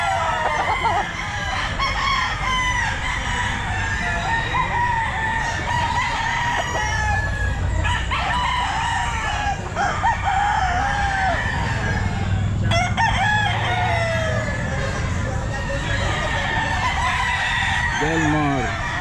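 Stag roosters at the Grotto pet market crow repeatedly, overlapping calls near and far over a crowded background rumble, with clucking between crows and people talking.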